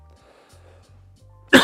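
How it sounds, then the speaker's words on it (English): A single sharp, loud cough bursts out at the end after near silence, close to the listener, during a tasting of an Irish single cask whiskey. "That's an exciting cough."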